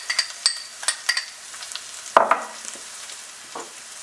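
Coriander and cumin powders hit hot oil in a curry pan of pork, beef mince and potato, giving a soft sizzle with light stirring scrapes and taps, close and without talk.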